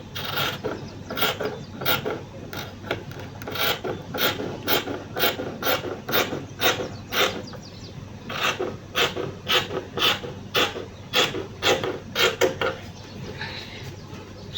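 Scissors cutting fabric along the armhole of an envelope flare dress: a close, steady series of crisp snipping strokes in an even rhythm, about two per second, with no talking.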